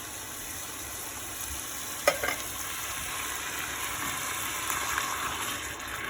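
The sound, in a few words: stirring tinned tomatoes frying in a pan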